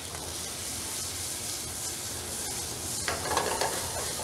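Red onions and mushrooms sizzling in hot olive oil, a dense, steady frying hiss throughout with a brief burst of stirring scrapes near the end.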